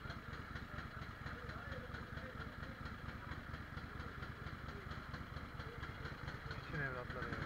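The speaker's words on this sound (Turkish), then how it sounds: "Egzozu patlamış." A motorcycle with a blown exhaust idles with a rough, popping, sputtering exhaust note, steady throughout, with voices faintly audible underneath.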